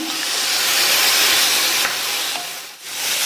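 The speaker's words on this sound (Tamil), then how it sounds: "இந்த காலிஃப்ளவர் 2லேருந்து 3 நிமிஷத்துக்கு இந்த வெங்காயம் தக்காளியோட வதங்கட்டும்." Cauliflower sautés with onion and tomato in a pan, giving a steady loud sizzling hiss that rolls on continuously with small dips.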